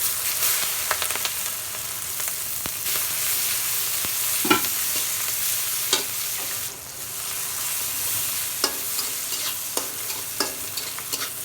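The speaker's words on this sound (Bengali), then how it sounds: "তেলের উপরে এখানে দিয়ে দেবো আমি জিরা ইয়ে, তেজপাতা এলাচ লবঙ্গ ডালচিনি দিয়ে দেবো পেঁয়াজ" Cumin, bay leaf, cardamom, clove, cinnamon and onion fry in hot oil with a steady close sizzle, broken by a few sharp spatula scrapes and taps against the pan.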